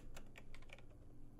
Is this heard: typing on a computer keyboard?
yes